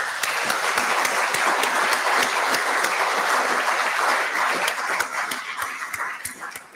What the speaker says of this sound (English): please join me in a big round of applause for our panelists